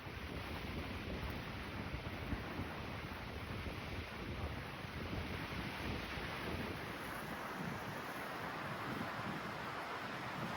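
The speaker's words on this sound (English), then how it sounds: "I just heard the wind picking up significantly" Wind gusting along a Pacific Crest Trail mountain path the day after a storm, a loud continuous rushing roar buffeting the microphone for the whole stretch, with no voices.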